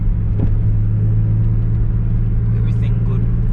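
Toyota Supra with a 2JZ engine driving on an open road, a steady low engine drone and road rumble heard from inside the car, continuous and even, with people talking over it.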